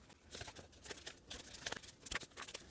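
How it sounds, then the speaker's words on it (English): Bingo cards being shuffled by hand, a quiet close-up series of quick papery riffles and taps in an uneven rhythm, with no talking. "Let me give these a shuffle."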